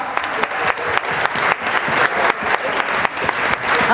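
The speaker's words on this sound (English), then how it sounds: "give yourselves a round of applause because you all just did improv" Dinner group applauds itself after an improv exercise, a loud, close burst of hand clapping sustained evenly through all four seconds with no talk.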